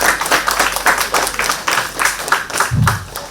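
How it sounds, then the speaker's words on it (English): An audience at an institute faculty development program applauds in a loud, continuous patter of many hands, with a brief low thump near the end. "Let's give a big round of applause to everyone."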